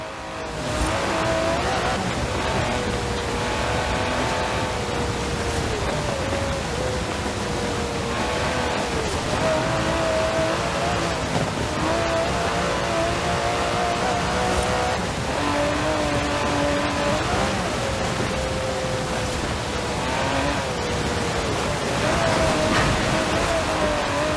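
An Aston Martin DB11 engine drones steadily while driving in Forza Horizon 4, a continuous loud hum with rising and falling pitch as it shifts and revs, under game music.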